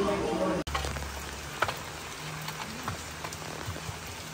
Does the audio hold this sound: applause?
no